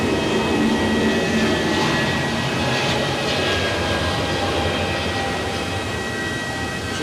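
A Swiss Airbus jet takes off at Zurich Airport, producing a loud, continuous broadband engine roar with a steady whine, heard alone from the viewing area.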